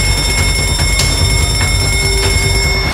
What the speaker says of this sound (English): The alarm! It's going off!